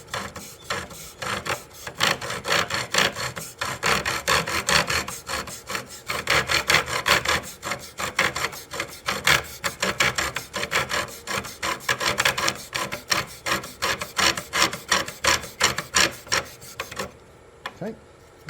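Rhythmic grinding and rasping of a primitive drill bit boring into wood for a Native American flute, steady back-and-forth strokes close up, slowing into separate strokes near the end.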